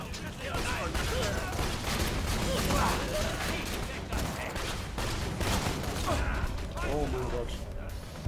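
An automated gun turret in Borderlands 2 fires continuously in a dense, loud burst of rapid gunfire mixed with clanking game effects, with voices talking faintly underneath.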